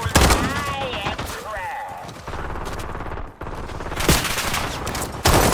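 Rapid gunfire bursts from the Call of Duty video game, with repeated shots and a busy layered mix of game sounds throughout, loud and close.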